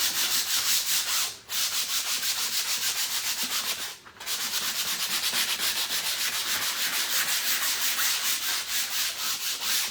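Steady rhythmic scraping of sandpaper rubbed back and forth over a canvas, close and continuous, with two brief pauses between strokes.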